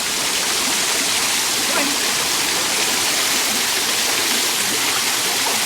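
A downtown water fountain, fed with water likely pumped from the river, splashes in a loud, constant rushing hiss that stays steady and close throughout.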